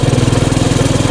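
Coleman CT200U mini bike with its governor removed, cruising on a warm-up ride; the small engine putters loud and close in a fast, even pulsing rhythm.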